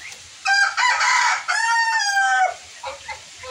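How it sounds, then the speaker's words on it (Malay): A rooster crows loudly and close, a long drawn-out call in a couple of stretched phrases, among jungle fowl hybrid hens and Cemani chickens on a farm, followed by softer clucks. "saya nak tunjuk kat korang ayam hutan betina tapi kacuk lah mengeram telur ayam cemani"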